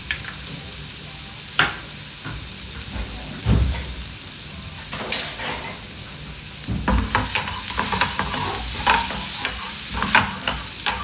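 Finely chopped garlic sizzling with onion in a hot pan, a steady frying hiss broken by scraping stirs and utensil knocks against the pan, close and fairly loud.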